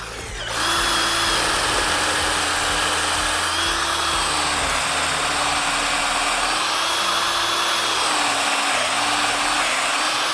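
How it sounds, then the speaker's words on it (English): A power drill whines loudly and steadily for about ten seconds while drilling holes in wood for a stair part, its pitch dipping slightly as it bites, with no talking. "Now that we've drilled our holes"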